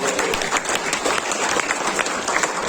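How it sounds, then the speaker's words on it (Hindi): Steady applause from a crowd at a send-off ceremony for Delhi state athletes, dense clapping filling the whole stretch without pause. "पर जोरदार तालियां उन सब खिलाड़ियों के लिए।"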